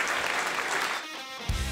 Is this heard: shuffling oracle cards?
no